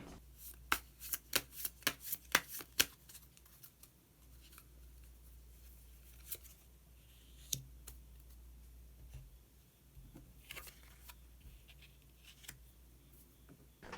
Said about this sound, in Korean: 한 장의 카드를 더 뽑고 이야기 계속 나오도록 하겠습니다.